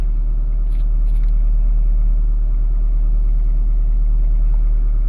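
A 2005 Toyota Caldina engine runs at a steady idle after a cam position sensor connector repair, giving a constant low rumble with no speech.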